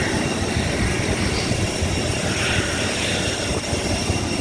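Steady, loud aircraft engine roar heard from inside the cabin of a passenger flight, a constant broadband drone with no pauses and no talking.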